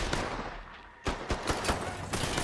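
Gunshots in Mafia 3, several sharp cracks following a quieter lead-in, then four or five loud shots spaced roughly a beat apart over a background rumble.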